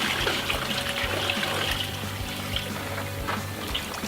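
Tap water rushes steadily into the bottom of a charcoal grill being filled several inches deep for cleaning, a loud, close, continuous gush with no speech.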